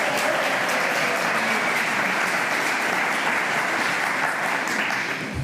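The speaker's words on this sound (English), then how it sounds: "Give me a round of applause." Sustained applause from a film festival premiere screening audience, dense and steady clapping filling the room for the whole stretch without a break.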